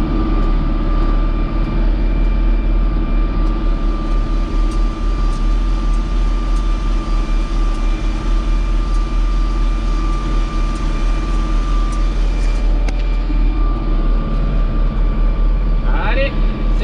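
A farm tractor engine runs steadily in a field during spring soil preparation before sowing, a loud, constant low rumble with unchanging drone throughout, heard from inside or close to the cab.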